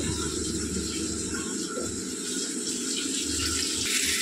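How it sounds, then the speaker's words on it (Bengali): Water pours steadily into a pot of rui fish curry cooked with potato and pointed gourd, a continuous gushing wash that holds a constant level through the whole stretch. "তো চলো মাছের ঝোলটা হোক, জল দেব।"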